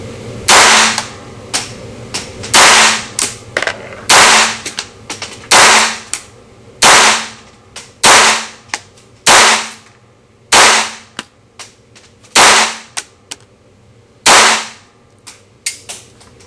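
Phoenix Arms HP22A .22 pistol fired at an outdoor range with bulk-pack ammo, about a dozen sharp, loud, snappy shots spaced irregularly a second or two apart, each with a short fading tail.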